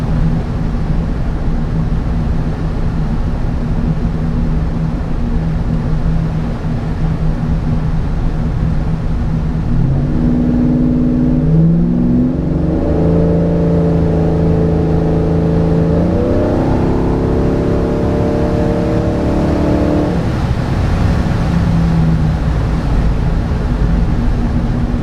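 A Trailblazer SS with a rebuilt performance transmission accelerates hard along an empty straight road, its loud engine droning steadily and then rising through revs and gear changes, heard from inside the vehicle.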